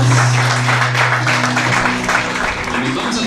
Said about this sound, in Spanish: da un fuerte aplauso a Dios